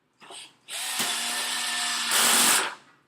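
A power drill drives a screw into a crossbar during furniture leg assembly: a short whir, then a sustained close, loud motor whine that rises in pitch near the end before stopping.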